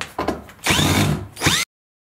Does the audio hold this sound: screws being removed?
yes